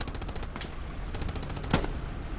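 A machine gun fires in bursts in an online multiplayer war game, rapid evenly spaced shots in two clusters separated by a short pause, fairly loud and close with no talk over it.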